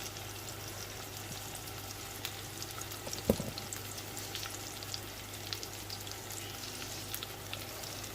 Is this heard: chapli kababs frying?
yes